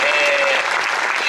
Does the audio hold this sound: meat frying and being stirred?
no